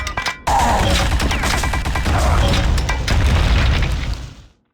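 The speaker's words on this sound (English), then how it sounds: "Rocket launcher!" Rocket launcher explosions in the Quake II video game: a loud, heavy blast after a brief opening, followed by rumbling bursts and crackling debris that fade out over a few seconds.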